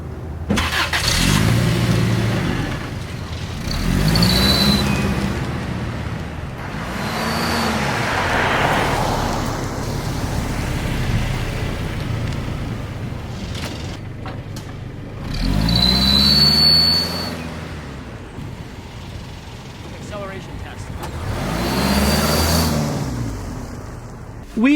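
A supercharged 1996 Toyota Previa minivan, its engine mounted under the front seat, runs and pulls away, rising and falling in several revving swells through the gears as the van accelerates, heard from inside at close range.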